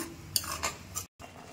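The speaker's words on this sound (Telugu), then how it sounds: "ఒకసారి మొత్తం కలుపుకుందాం." A spoon clinks and scrapes a few times against a pan while crab curry masala of onions and turmeric is mixed and fried, with short, close metallic taps.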